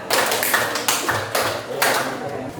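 A classroom of students clapping in a counted ice-breaking game: four rhythmic bursts of group clapping, roughly half a second to a second apart, close and fairly loud, with a faint voice underneath.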